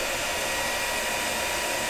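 A handheld blow dryer running at full power, a steady loud airy roar and whir with no break, used to heat and shrink toy labels.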